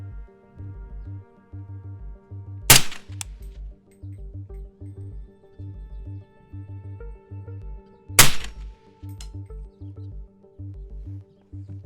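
Two loud, sharp rifle gunshots from 190 grain Punisher 8.6 Blackout rounds, spaced about five seconds apart, each a sudden crack over a steady low rumbling background.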